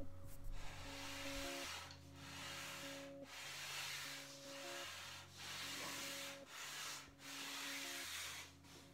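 Sandpaper worked by hand over a walnut picture frame, giving steady rhythmic back-and-forth rubbing strokes, close and moderately quiet, with no voices.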